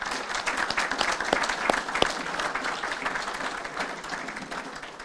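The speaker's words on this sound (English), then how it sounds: "let's give them a round of applause" A room of people applauds UAH athletes at a press conference introducing new basketball coaches, steady dense clapping with a few sharp louder claps standing out, continuing for several seconds before easing slightly.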